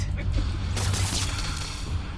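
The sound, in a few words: explosion in Marvel's Spider-Man video game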